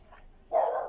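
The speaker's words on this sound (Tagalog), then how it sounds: "Pasensya na sa ingay ng aso." A single dog bark sounds at moderate distance, brief and fairly loud after a near-silent moment.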